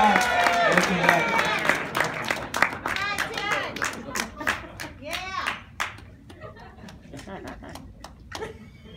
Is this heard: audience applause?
yes